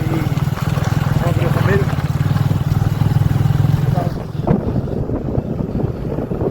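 A vehicle driven away from a railway station rumbles steadily with wind buffeting the microphone, its low drone easing after about four seconds as the road noise shifts.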